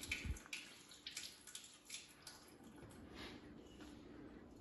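Running tap water rinses a small water test vial, a quiet splashing trickle with a few louder spurts near the start, with no talking.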